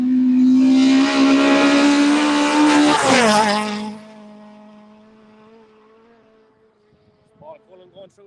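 A rally car on the Carrick Rally Sprint stage roars past loud and close, engine note rising then dropping as it passes, before fading away into the distance with faint distant voices near the end.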